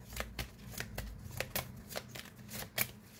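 A deck of oracle cards is shuffled by hand for a bestiary-themed draw: close, quick bursts of riffling and card slaps repeat in an irregular rhythm, with no talking.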